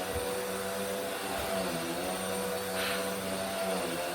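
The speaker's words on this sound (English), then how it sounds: "He chooses now to be helpful with vacuuming." A vacuum cleaner running in a house, a continuous steady droning whine with a slight shift in pitch partway through, close and constant throughout, no talk.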